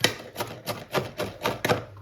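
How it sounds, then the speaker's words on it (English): Knife chopping onions on a board in a home kitchen while slow-cooking beef shin, a steady series of about seven crisp close thuds at an even rhythm, with no talk. "whilst I'm chopping those onions"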